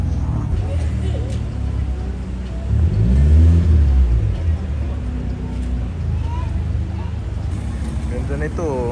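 A rally-inspired Suzuki Swift revs as it drives past at a car-spotting meet, a loud engine swell peaking mid-pass over steady background road noise.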